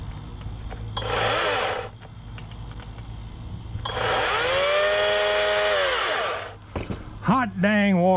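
A cordless chainsaw whirs up in two bursts, first short, then a longer steady high-pitched run that winds down. Faint voices are heard at the end.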